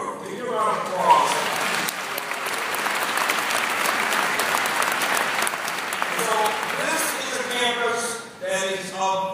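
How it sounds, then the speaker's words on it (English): Audience applause at a university new student day gathering after featured remarks, a broad sustained clapping that swells and holds for several seconds, with a voice speaking briefly at the start and again near the end. "Give your round of applause."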